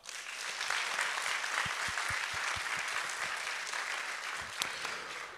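Audience applause fills the hall at the opening of a Latvian business event, a steady dense clapping from a large crowd, sustained and fairly close throughout with no talk.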